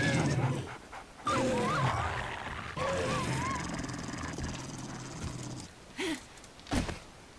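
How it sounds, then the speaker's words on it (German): Zombie dogs bark and yip in the survival video game 7 Days to Die, with several snarling, whining calls at moderate distance amid game noise and some talking. "Und das sind hier noch mehr Hunde."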